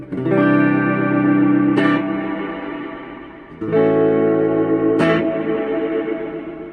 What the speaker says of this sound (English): So that's the reverb section of it.